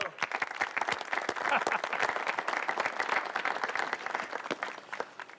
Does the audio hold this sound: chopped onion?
no